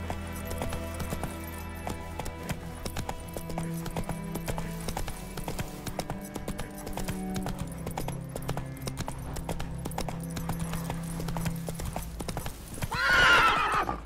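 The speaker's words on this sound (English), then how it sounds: "Giddy up!" A horse gallops in The Witcher 3, with rapid, rhythmic hoofbeats on the ground throughout and a loud, close whinny near the end.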